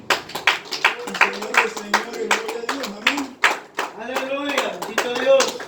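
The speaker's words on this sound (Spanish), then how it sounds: "Dele palmas al Rey de Reyes." A church congregation at a house of prayer in Madera, California claps for the King of Kings, a steady rhythmic run of sharp hand claps beneath a voice speaking continuously, close and fairly loud.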